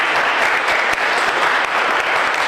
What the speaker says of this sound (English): Let's give Karen Gonzalez one more round of applause